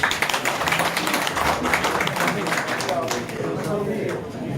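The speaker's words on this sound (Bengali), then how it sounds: "আমরা স্পেশালি ডক্টর মমিনের জন্য একটা তালি দেব সবাই" A crowd at a book launch for three books in three languages applauds Dr. Momin in a hall, with sustained dense clapping that fades slightly toward the end while people talk under it.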